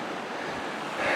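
Broadband rushing water from the Black River in Arizona, heard close by along a riverside path, a steady wash that swells slightly louder near the end.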